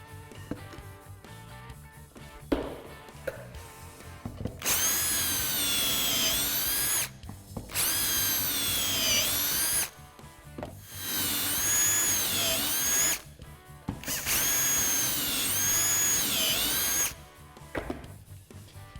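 Power drill boring pocket holes into a wooden face frame, with three long high-pitched whining bursts separated by short pauses, close and loud against a quiet workshop.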